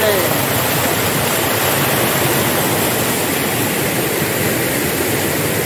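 Water rushing between rocks at a forest waterfall, a dense, loud, unbroken roar of turbulent flow heard close and alone for the whole stretch.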